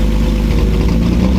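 A Lamborghini Murcielago engine idles steadily after throttle body work, a continuous low rumble held at an even level for the whole moment with no voices.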